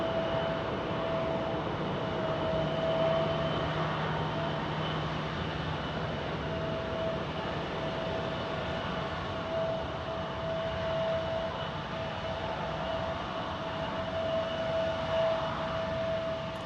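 A Learjet 60 business jet arriving at Tucson airport produces a steady, moderate jet whine and rush with a faint high tone. It continues evenly throughout with no talk.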